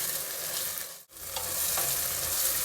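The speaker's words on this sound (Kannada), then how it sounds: "ಅವರೆಕಾಳು ಹಾಕಿದ್ಮೇಲೆ ಸ್ವಲ್ಪ ಹೊತ್ತು ಎಣ್ಣೆಯಲ್ಲಿ ಹುರಿಬೇಕು." Field beans fry in hot oil seasoning for pulao, giving a steady loud sizzle that drops out briefly as they are stirred, then resumes crackling.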